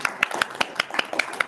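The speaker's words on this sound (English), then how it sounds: "Give a round of applause." A small audience at a talk on caring for autistic patients applauds a speaker: sparse, distinct claps in a loose, uneven rhythm, close and brief.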